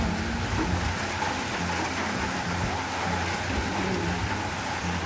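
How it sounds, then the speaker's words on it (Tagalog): Steady rain falls outdoors in a backyard garden, a dense, constant wash of drops across the whole stretch with no break and no talking. "Ayan, umuulan."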